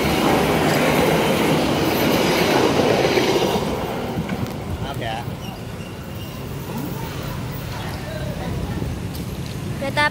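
A CC 201 diesel locomotive hauls the Dharmawangsa passenger train on its Surabaya Gubeng to Pasar Senen run, a loud rumbling rail roar easing after a few seconds into steadier running noise with wheel sounds, voices faintly underneath.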